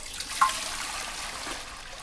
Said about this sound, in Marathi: इथं मी पाणी वतून घेतलेलं आहे